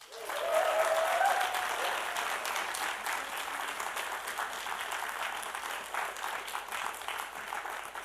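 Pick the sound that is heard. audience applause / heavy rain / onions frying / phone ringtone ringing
audience applause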